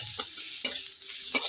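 Onions fry in a pan, sizzling steadily at close range while a utensil stirs them in three distinct scraping strokes.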